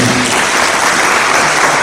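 Conference audience breaks into dense, loud applause, a continuous wash of clapping with no pauses throughout.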